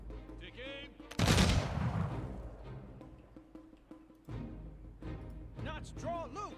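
Gatling guns mounted on elephants open fire in the Humankind strategy game, a loud burst of rapid gunfire followed by further shots amid game sounds and voice commands.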